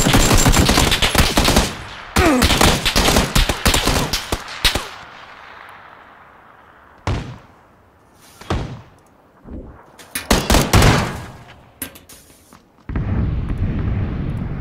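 Bursts of rapid machine gun fire from a video game, loud and close, with short pauses between volleys and a final sustained stretch of shooting.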